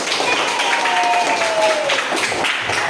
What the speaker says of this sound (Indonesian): Kita kasih aplaus untuk kita semua.